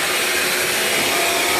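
A Hoover Linx BH50010 cordless stick vacuum cleaner runs steadily at close range, its loud, even broadband whir holding without a break through the whole short stretch.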